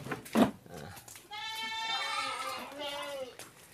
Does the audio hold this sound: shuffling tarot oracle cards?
no